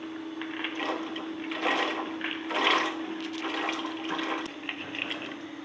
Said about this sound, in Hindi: अब इसमें मैं चने डालूँगी।